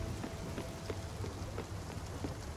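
Steady thunderstorm rain falls in the video game Spiritfarer, a soft, continuous patter of drops with faint scattered ticks, quiet and unbroken, with no voices.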